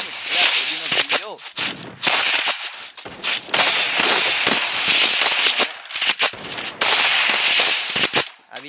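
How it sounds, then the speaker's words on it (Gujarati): Firecrackers burst in a Free Fire craft land 1v1 match: a loud, dense string of sharp, crackling pops and bangs with brief gaps. "ફટાકડા ફૂટે છે"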